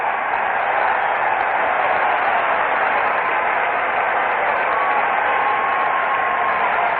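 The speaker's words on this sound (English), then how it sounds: "Standing ovation for Bob Gibson." A crowd at the 1968 World Series between the Tigers and St. Louis gives Bob Gibson a standing ovation, a dense, continuous roar of applause and cheering that stays loud and steady, heard through narrow, old broadcast-quality sound.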